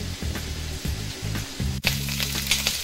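Shrimp sizzling in a hot pan for Cajun shrimp fried rice, a steady loud frying hiss with rhythmic stirring scrapes and a brief clatter partway through.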